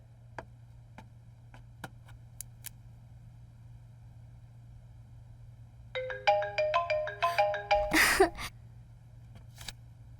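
A mobile phone ringtone plays a bright, repeating melodic pattern for about two seconds midway, fairly loud against a quiet, humming room, followed by a brief rustle.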